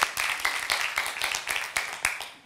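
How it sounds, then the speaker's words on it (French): Applause and clapping ripple through a comedy show audience at the Catskills Comedy venue, a steady patter of many hands with rhythmic accented claps, fairly close and loud, with no speech. "On peut les applaudir."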